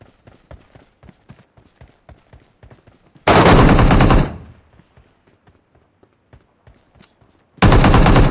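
PUBG Mobile gameplay: quick ticking footsteps run for a few seconds, then a loud burst of rapid automatic gunfire, a lull of steps, and another sharp burst of shots at the end.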